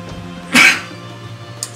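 A single short sneeze bursts out against a quiet room hum during a Suikoden V play session on PS2, followed moments later by a faint brief sound.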